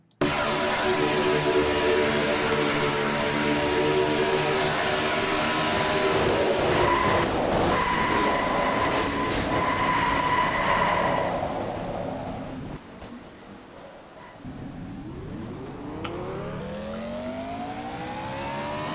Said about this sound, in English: the slowly dying car says it all